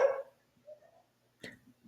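Dogs barking, one sharp bark at the start followed by a short whine and another bark, fairly close but not loud, with quiet gaps between.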